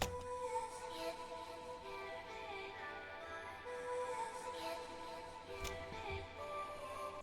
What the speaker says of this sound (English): So another very cool sound in this production is this vocal chop